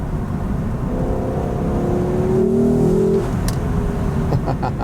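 A Lexus LC500 engine accelerates, heard from inside the car through slightly open windows, a loud, steady road roar with a rising engine drone that swells and then settles.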